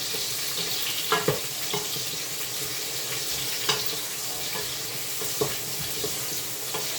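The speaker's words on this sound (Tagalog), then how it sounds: "Kaya, nagigisa na ako ng ano." Food sautés in a pan with a steady low sizzle, broken by occasional sharp clinks and stirring knocks, close and fairly quiet with no talking.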